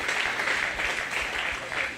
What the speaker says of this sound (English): every kid that showed today deserves one more big round of applause